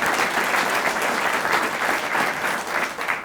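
Round of applause at a regional organization's 2019 annual meeting, a steady, full clapping from a room of attendees lasting a few seconds, fairly loud and close with light crowd murmur and no speech over it.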